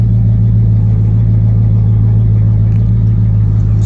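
A 1969 Dodge Coronet with a 440 engine and Flowmaster exhaust drives along, giving a loud, close, continuous low rumble with a steady drone and no talk.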